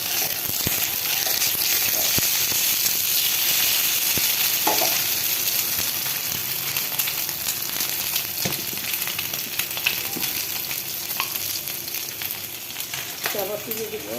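Egg posto, eggs cooked Bengali-style with poppy seed paste, sizzles and fries steadily in a pan, with occasional utensil clinks and stirring over a constant close frying hiss.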